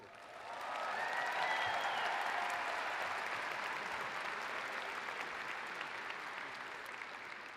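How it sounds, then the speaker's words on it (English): Audience applause at the University of Wisconsin-Madison Spring 2024 doctoral, MFA and medical degree commencement, rising quickly from silence into a broad, sustained wash of clapping from a large crowd that holds steady to the end. "You can clap."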